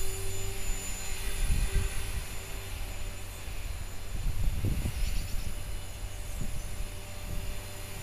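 An HK-450GT flybarless RC helicopter in flight after a rebuild, a steady rotor and motor whine heard outdoors at moderate distance, swelling slightly as it passes.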